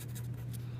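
A pen scratching on paper while writing out numbers by hand, with soft close strokes over a steady low hum.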